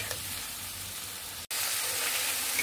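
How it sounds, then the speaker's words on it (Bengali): Turmeric and salt sizzling with spices in a hot pan, a steady close frying hiss with faint stirring, briefly cutting out for a moment midway before resuming. "এটাকে সুন্দর করে কষিয়ে নিব"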